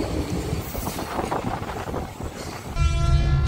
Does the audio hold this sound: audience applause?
no